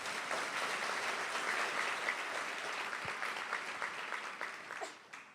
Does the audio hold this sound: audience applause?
yes